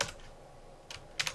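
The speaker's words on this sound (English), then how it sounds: "I'm typing my IPv4" A few quick keystrokes on a computer keyboard, faint and close, with a short pause between the taps.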